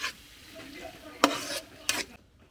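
Cambodian food stirred in a pan and frying over an open fire: two sharp scraping stirs ring out over a steady low sizzle, close by, with no talking.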